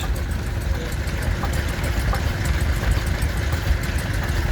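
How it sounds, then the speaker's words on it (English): A diesel stationary engine driving a dynamo at an outdoor Victorian extravaganza in Llandudno runs steadily with a low, even idle rumble and a faint rhythmic ticking, unbroken throughout and fairly quiet. "And this engine, this diesel engine, is so quiet."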